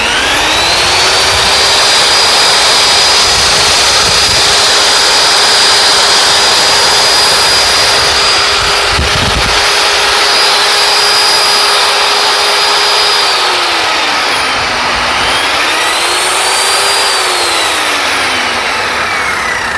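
A Dong Cheng DZZ190 handheld wall core cutting machine runs continuously at close range, a loud steady motor whine whose pitch dips and rises briefly near the end, with no talking over it.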